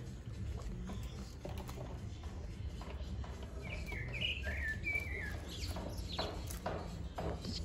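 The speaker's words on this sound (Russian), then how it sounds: "Птички поют" Small birds chirp and trill outdoors at a seaside resort in Gelendzhik, a few clear melodic phrases rising over steady background hum and clopping, fairly near and without talk.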